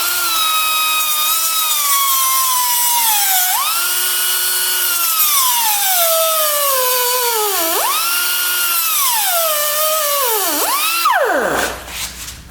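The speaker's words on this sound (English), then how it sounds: "We'll have to cut this weld off around the seam" Power tool grinding through a weld on a Mazda MPV control arm ball joint, a loud continuous high-pitched whine that repeatedly dips and rises in pitch as it bites into the metal, then winds down at the end.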